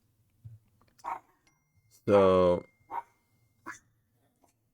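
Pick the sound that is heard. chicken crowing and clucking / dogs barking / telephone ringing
dogs barking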